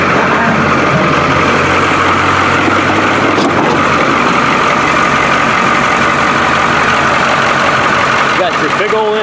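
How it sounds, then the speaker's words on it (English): Engine of a scrapped 1985 International school bus idling outdoors, a loud, steady rumble running unbroken throughout, with a brief clank partway through. "let's go outside and listen to this engine purr"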